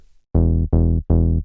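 Three clean, rounded synth bass notes in even succession, fairly smooth and unprocessed, played alone.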